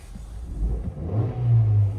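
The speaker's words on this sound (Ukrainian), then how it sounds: "Заводиться автомобіль з півоберту." A Hyundai Tucson engine with about 109,000 km turns over and catches, then settles into a steady idle hum with a slight rev, close by.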